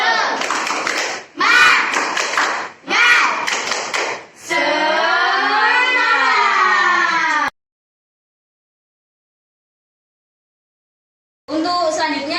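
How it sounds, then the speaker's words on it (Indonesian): Schoolchildren in a micro-teaching classroom clap a rhythmic spirit clap in short bursts. An adult voice speaks and a sustained tone follows. "Kalau Ibu bilang tepuk semangat, kalian langsung tepuk ya."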